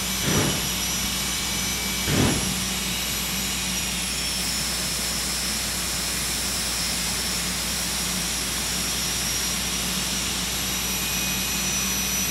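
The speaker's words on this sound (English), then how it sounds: "Jet dragsters a pair, getting ready to go." A pair of jet dragsters idling at a drag race, their jet engines producing a loud, steady roar and whine, with a couple of brief bursts near the start.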